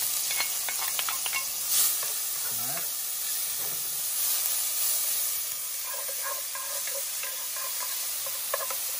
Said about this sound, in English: we're going to put a pan with some oil in there. This is going to be for us to fry our tomatoes